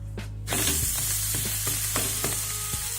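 A podi dosa sizzles steadily on a hot pan after being flipped, a loud bright frying hiss that swells suddenly and carries on, with a few soft scraping taps underneath.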